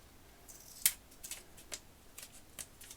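Scissors snip through washi tape at a craft table, several quick, crisp cuts in an irregular rhythm, one sharper than the rest, close and fairly quiet.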